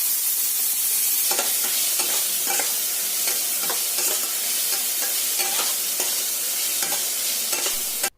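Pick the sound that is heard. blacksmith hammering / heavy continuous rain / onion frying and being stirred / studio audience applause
onion frying and being stirred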